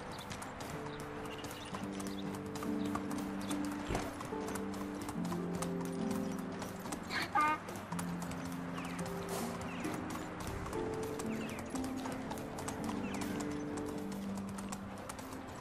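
Horse hooves clip-clopping steadily through the whole stretch in the medieval life sim Medieval Dynasty, with a short neigh partway through, while game music plays underneath.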